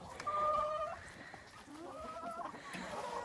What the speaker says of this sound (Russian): Это очень хорошие курочки.